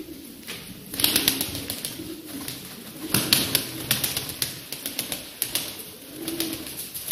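A male smoky tumbler pigeon in a loft gives soft coos amid a busy flurry of rapid wing flaps and tapping, close and fairly loud, with no voices.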